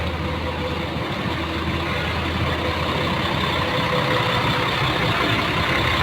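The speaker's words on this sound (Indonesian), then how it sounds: "Jadi ini bisnya sudah masuk lagi. Tujuan Toraja, Masterpiece, Adiputro." A luxury Adiputro Masterpiece bus idles in a bus parking area, its heavy engine giving a steady, loud low rumble with a constant droning hum and no voices.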